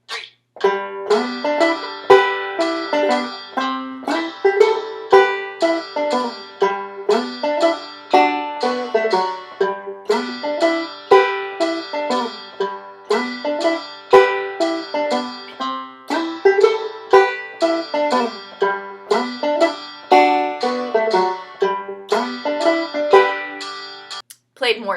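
Banjo picking an advanced piece in 3/4 waltz time, a dense, continuous stream of bright plucked notes in a lilting three-beat rhythm, close and steady for the whole stretch.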